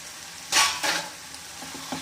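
Soaked soya chunks are added to onion masala frying in a pan and stirred, giving a brief burst of loud sizzling and scraping, then softer stirring sounds.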